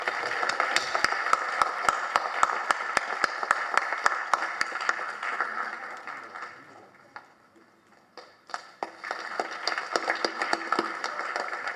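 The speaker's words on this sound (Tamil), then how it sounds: "ஒரு பெரிய கைத்தட்டு கொடுத்துருக்கேன்ல." An audience claps in a large hall, with dense sustained applause that thins out midway and then picks up again as scattered claps, with faint voices underneath.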